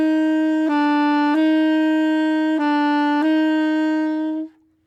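A saxophone plays clean alternating changes between B natural and C natural, several even sustained notes with crisp transitions. Close, steady and solo, ending in a quick release.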